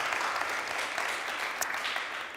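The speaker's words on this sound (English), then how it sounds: "With your applause," Dense, steady clapping from a conference audience fills the whole stretch at an even level.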